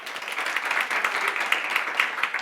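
Audience applause fills the room as a crowd claps to vote on a name for a fish, with steady, dense clapping throughout and no clear voices.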